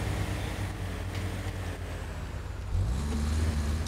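A vehicle backs up in the off-road driving game Expeditions, set in Arizona's Grand Canyon on Xbox Series X. A steady, close engine drone rises in pitch and load partway through, with no talking.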